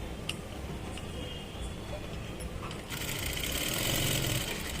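A sewing machine stitches a blouse, a steady close mechanical whirr with faint ticking that grows slightly louder and brighter in the last couple of seconds; no talking.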